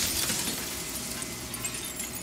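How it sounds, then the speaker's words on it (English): Mirror glass cracking and breaking into jagged shards in the video game Slay the Princess, a bright continuous crackle and tinkle of splintering glass, close and fairly loud. "and another, turning the mirror into jagged shards of broken glass"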